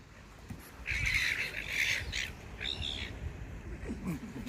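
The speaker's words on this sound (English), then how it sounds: "Bunch of blooming noisy seagulls sitting there." Several harsh, squawking seagull calls from birds being fed near a waterfront ship ring out in bursts over a low outdoor rumble, fairly close, with short pauses between cries.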